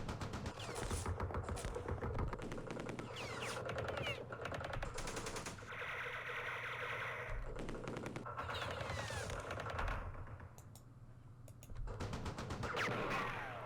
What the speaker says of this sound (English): So I'm using all the machine guns that are available to me.